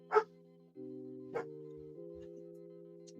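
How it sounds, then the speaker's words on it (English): A dog barks a few times, short sharp yips spaced apart over a steady low electronic hum, fairly close. "I apologize about the barking dog."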